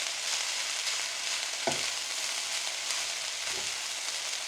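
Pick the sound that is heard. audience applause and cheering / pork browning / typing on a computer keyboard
pork browning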